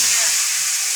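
Oil sizzling in a cooking pan, a loud, close, bright hiss that holds steady for a brief moment with no other sounds.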